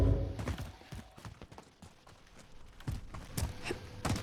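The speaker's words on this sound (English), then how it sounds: "As you could just hear, that's the sound of a loadout falling." Loadout drop falling in a video game: a string of dull thuds and knocking impacts with scattered clatter, fairly quiet and irregular, heard alone without talk.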